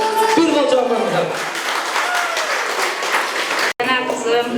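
Applause for a grandmother at a Kyrgyz bride's farewell celebration: a loud, dense stretch of clapping from a crowd, heard mixed with talk and broken by one brief gap.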